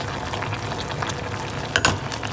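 Diningding, an Itawis vegetable stew with malunggay leaves and tilapia, bubbles and simmers steadily in a pot, with a brief louder clatter or stir near the end.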